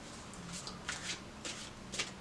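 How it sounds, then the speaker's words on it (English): A deck of tarot cards is shuffled close by in a quiet room, several soft riffling bursts following one another in irregular rhythm. "I'm almost done shuffling here."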